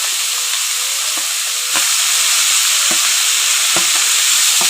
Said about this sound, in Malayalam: നമുക്ക് തക്കാളി സവോള പച്ചമുളക് തേങ്ങ ഇതെല്ലാം തിരിഞ്ഞ് കൂട്ട് എണ്ണയിലേക്ക് ഇട്ട് കൊടുക്കാം